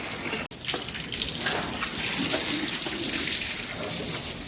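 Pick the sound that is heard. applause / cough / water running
water running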